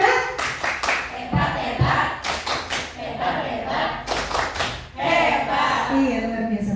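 A group of children clap in a short, rhythmic Indonesian "tepuk hebat" cheer in a classroom-style session: several quick bursts of sharp, close hand claps with patterned pauses, and voices mixed in.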